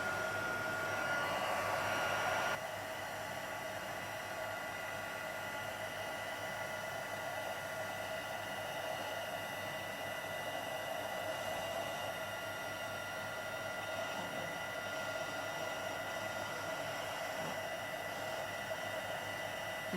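A heat gun blows steadily across cardstock, a loud, constant hot-air roar and hiss that runs unbroken throughout, with no talk over it.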